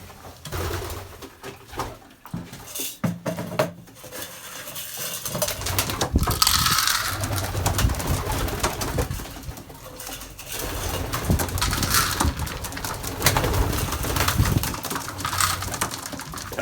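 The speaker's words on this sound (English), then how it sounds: "It's actually a pretty tame pigeon." Pigeons in a loft coo in low throaty rolls during feeding, with wings fluttering and feet scraping nearby, close and busy, no talk.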